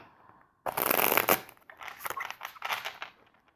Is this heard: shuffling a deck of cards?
yes